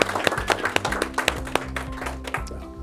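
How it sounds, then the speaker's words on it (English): A small group applauds at a sales meeting, a short close burst of hand clapping that holds fairly steady for a few seconds before thinning out. "So I'll give you a little round of applause for"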